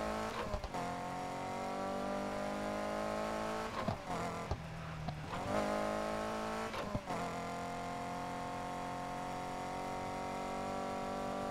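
Engine of a car in the PC racing game Need for Speed Heat, revving and driving at night: a steady, loud, harmonic engine drone with pitch dips at gear changes, alone without talk.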